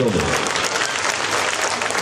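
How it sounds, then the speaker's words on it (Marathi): Dense, loud applause from a crowd fills the whole stretch at a Buddhist gathering marking the foundation stone of a Buddha statue, with a steady, continuous clatter of many hands. "जोरदार टाळ्यांनी स्वागत करूया"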